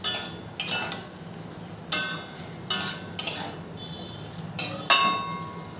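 A spatula stirs potol bhorta, mashed pointed gourd, in a pan, making about six sharp metallic scrapes and clanks at irregular intervals, close and crisp over a quiet background.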